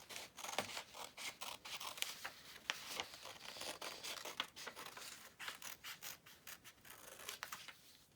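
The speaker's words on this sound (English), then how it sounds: "then after I'm going to cut out the leaf." Scissors snipping out a paper leaf shape for a 3D paper tulip craft, a close run of quick, crisp cuts and rustles repeating steadily throughout with no talking.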